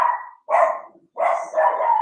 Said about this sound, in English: And of course, the dog barks.